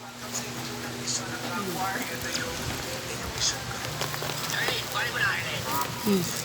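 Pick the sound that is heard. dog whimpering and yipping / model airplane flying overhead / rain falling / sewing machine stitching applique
rain falling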